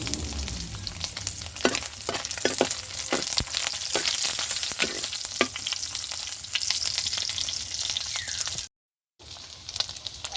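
Pork sizzles loudly in a pan as it renders its oil, with a dense, close crackle and sputter broken by sharp pops and stirring clatter, then a brief silent cut before the frying resumes.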